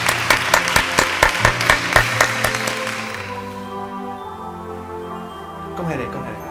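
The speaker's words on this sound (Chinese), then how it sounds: "俾啲掌声大家" At a Hong Kong beauty award ceremony, a few people clap in a quick regular rhythm that fades after a few seconds, leaving quiet tonal background with faint talk at the end.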